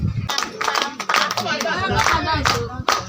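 Clapping from an audience at a church gathering comes in bursts mixed with voices, as people talk and call out over the hands.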